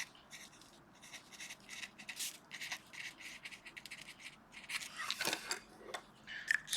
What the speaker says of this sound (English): score the surface of that cardboard